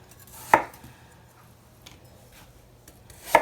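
A knife cuts apples into thick, chunky slices on a board, two crisp chopping thuds about three seconds apart with quiet handling in between, no speech.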